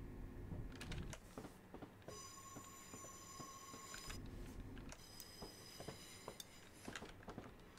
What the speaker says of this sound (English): Oh, there's another Thameslink train coming.